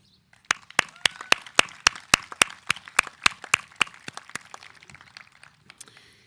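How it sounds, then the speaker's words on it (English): A sparse, slow round of clapping at a fifth grade closing ceremony, a couple dozen sharp distinct claps at a steady rhythm that thin out and fade toward the end. "A round of applause."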